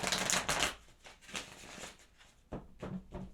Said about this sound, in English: I'll try and shuffle over here because of the sound.